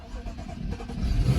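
A BMW 335i F30 engine cold-starts with a deep, loud rumble that swells as the revs climb, heard close in a short burst with no talking.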